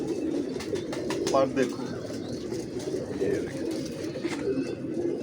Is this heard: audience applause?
no